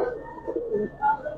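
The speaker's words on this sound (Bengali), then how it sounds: "সেরা চোখের কবুতর, সেরা আজকের দিনে অন্যতম সুন্দর সেরা কবুতর" A Giribaz pigeon coos in soft, low, rolling phrases, fairly close and steady, with a brief louder swell near the end and no talking.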